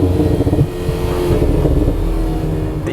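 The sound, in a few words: Alpine A110S sports exhaust crackling and popping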